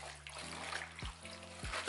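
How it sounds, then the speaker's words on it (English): Water runs from a tap while collard greens are rinsed, a steady faint splashing stream under a low background hum, with no talking. "do this step, rinse out this water,"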